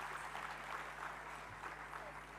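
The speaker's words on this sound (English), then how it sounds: "Please show your appreciation by applauding generously to this team." Audience applauding a student dance team at a youth consultation event in Bengaluru, a soft, continuous patter of clapping heard faintly from a distance over a steady low electrical hum.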